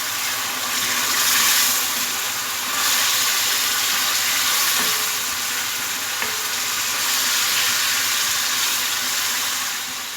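Tomatoes fry in a spiced masala for eggplant bharta, giving a loud, continuous sizzle and hiss that stays steady throughout, close by and without any voices.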